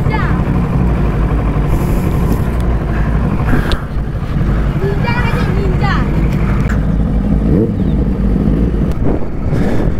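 Kawasaki Ninja ZX10R motorcycle riding along a sandy road through a casuarina forest, its engine droning steadily and loud with a low rumble throughout, wheels bogging in sand, while a voice talks over it.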